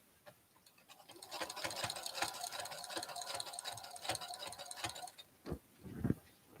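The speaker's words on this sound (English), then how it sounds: "I'm just going to start sewing" A sewing machine runs steadily for about four seconds, stitching stretchy fabric for baby leggings, with a fast, even mechanical chatter up close before it stops and the fabric is handled.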